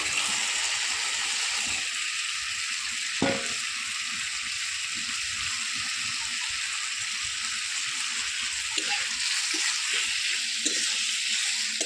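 Chicken legs drop into a pan of frying spice masala, giving a steady loud sizzle that runs throughout, with a few sharp crackles and spatters, and no talking.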